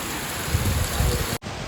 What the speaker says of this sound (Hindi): आ गई है ना बारिश।